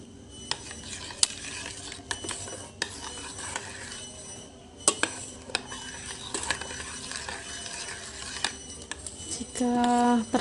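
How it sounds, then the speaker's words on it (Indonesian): Chocolate avocado pudding is stirred in a pan while cooking, making repeated close scraping and tapping strokes of the utensil against the pan over a faint sizzling background. A brief tonal sound comes in at the end. "Kita aduk rata terlebih dahulu."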